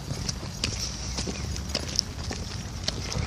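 Horse hooves clip-clop at a steady walking pace on a hard town street in Cripple Creek, moderately close, over light outdoor background noise.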